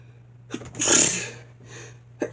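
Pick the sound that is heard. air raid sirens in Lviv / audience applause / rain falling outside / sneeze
sneeze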